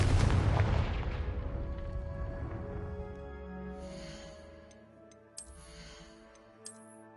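A Confringo spell in Hogwarts Legacy goes off as a heavy explosive boom that rumbles and slowly fades, followed by a couple of small, sharp clicks.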